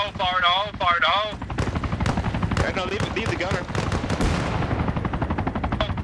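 Arma Reforger combat in Helmand Province with sustained bursts of automatic gunfire rattling continuously, dense and loud, while voices talk over the shooting throughout.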